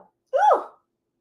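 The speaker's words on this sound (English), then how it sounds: "Oh, I feel like I'm going to sneeze." A single person's sneeze bursts out close by after a quick breath in, loud and brief, then silence.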